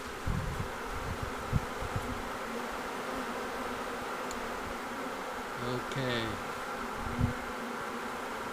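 A honey bee swarm being captured outdoors in Red Bluff, California hums in a dense, continuous buzz close to the microphone, with a brief spoken word and some handling noise over it.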